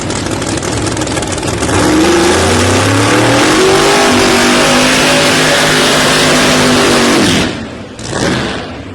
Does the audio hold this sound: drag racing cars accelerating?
yes